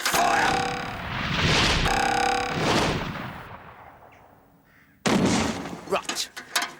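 Cannons fire in a series of loud booming blasts, each with a sharp crack and long rumbling decay, the last after a brief lull, with voices shouting between shots.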